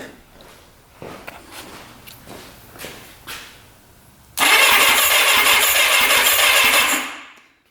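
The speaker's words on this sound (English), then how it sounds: "we've got power to the starter and it is turning over the engine" A starter motor cranks the engine of a Suzuki Quadzilla quad fitted with a swapped 750cc engine: a few short clicks and bumps, then about three seconds of loud, steady, whirring cranking that stops abruptly.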